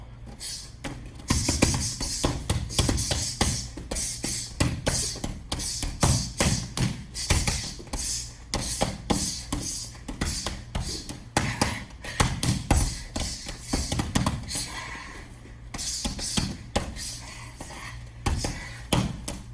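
Rapid punches land on a heavy bag during a ground-and-pound drill from mount and knee-on-belly, a dense run of close thuds and slaps with uneven rhythm for the whole stretch.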